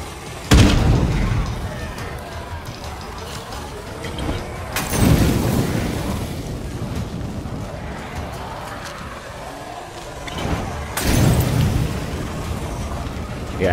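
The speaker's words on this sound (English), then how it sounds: "I want to chuck this grenade in there, obviously." Grenades explode during a night fight in a solo video game match, with three heavy booms spaced a few seconds apart over continuous game noise.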